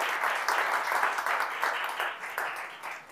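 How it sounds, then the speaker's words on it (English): Steady applause from an audience at a tech meetup, thanking Microsoft as sponsor; a dense, even wash of clapping that holds for about three seconds and fades slightly at the end. "a little round of applause for Microsoft"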